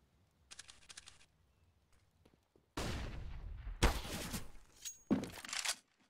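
Wall bang gunfire on the Inferno map in Counter-Strike, several sharp loud bursts of shots with brief echoing tails, separated by short pauses and a quieter earlier burst.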